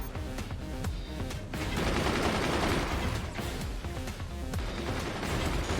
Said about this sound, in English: And those mortars, actually, several of them are landing, which is impressive